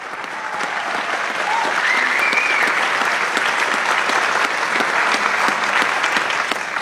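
Crowd applause at a senator's town hall meeting in Astoria, Oregon: loud, sustained clapping from a large audience filling the whole stretch, close and dense with no break.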